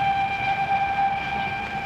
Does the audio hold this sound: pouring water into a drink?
no